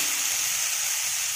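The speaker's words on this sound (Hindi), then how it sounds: "तेल गर्म हो गया है, अब इसमें डाल देंगे थोड़ा थोड़ा डाल के फ्राई कर लेंगे" Chowmein noodles frying in hot oil in a pan, a steady close hiss and sizzle with no pauses over a short stretch.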